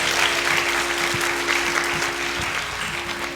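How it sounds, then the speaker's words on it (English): An audience at an Arangetram dance recital breaks into sustained applause, a dense continuous wash of clapping that holds steady for the whole stretch. "let's give them another round of applause"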